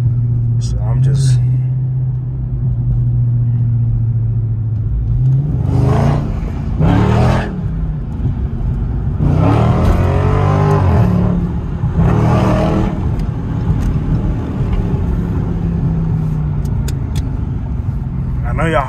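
A Dodge Scat Pack engine hums and rumbles with a whine from inside the cabin in track mode, rising in pitch as it accelerates through traffic, with someone talking over it at times.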